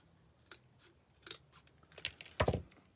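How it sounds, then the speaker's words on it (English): Scissors cut along a marked line on a piece for a rustic DIY birdhouse: several quiet, separate snips spaced irregularly, ending in a louder, fuller cut, with no talk. "So now I'm just gonna take and cut right on that line with some scissors."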